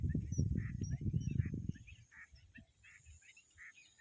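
Birds call around Elathur lake in Nambiyur. A burst of honking, goose-like calls comes first, then scattered fainter chirps and calls carry across the open water.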